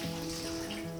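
Tap water runs in a steady stream as a finger is rinsed under it in a home kitchen. The flow is short and fairly close, and a sharp knock or splash comes right at the end.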